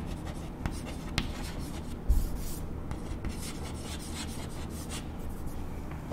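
Chalk or marker writing on a board during a statistics lesson: faint scratching and rubbing strokes with a few small taps, soft and unaccompanied by voice.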